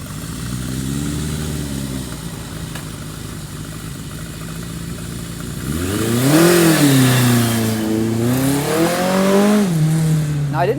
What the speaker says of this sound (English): Let's jump on this old machine and give it a shakedown run and see how far we can get.